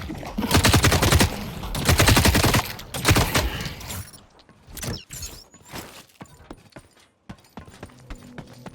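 Rapid SMG gunfire in The Cycle: Frontier, three loud, tight bursts of automatic shots in the first four seconds, followed by scattered single shots, impacts and clatter at a lower level.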